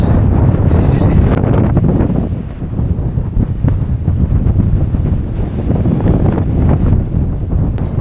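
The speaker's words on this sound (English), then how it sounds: "It is really windy." Strong wind on a steep clifftop hiking trail at Point Possession, Albany, Western Australia, roars and buffets the microphone throughout, a loud continuous rushing that barely eases before gusting up again.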